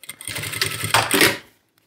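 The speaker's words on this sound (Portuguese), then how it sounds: "Eu vou fazer um retrocesso aqui, vou abrir só um pouquinho mais de espaço." A sewing machine backstitches a fabric shoulder bag with a short, fast mechanical whir of stitching lasting just over a second, then stops to silence.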